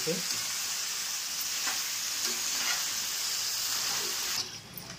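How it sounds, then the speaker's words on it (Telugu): Mutton frying in a pot with onion, ginger garlic paste and biryani masala makes a steady, close, hissing sizzle with faint stirring, fading slightly at the end, with no talk. "ఈ ఉల్లిపాయ, అల్లం వెల్లుల్లి పేస్టు, మసాలా, బిర్యానీ మసాలా అన్నీ కూడా బాగా పట్టించాలి."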